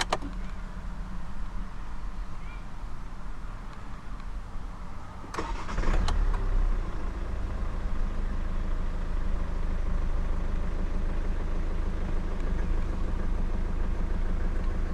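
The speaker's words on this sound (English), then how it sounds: "to start the car, put your foot on the clutch, insert the key into the slot, and just simply twist it like a normal car" A 2014 Hyundai i30 1.6 CRDi diesel hatchback starts with a key. There is a faint hum and a sharp click, then the engine catches and settles into a steady, quiet, even diesel idle heard up close.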